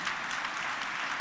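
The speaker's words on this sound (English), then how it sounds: "Could you give them a round of applause, please?" An audience at a Katiba Day commemoration at KICC, Nairobi, gives panelists a round of applause: dense, even clapping from many hands, loud and sustained throughout.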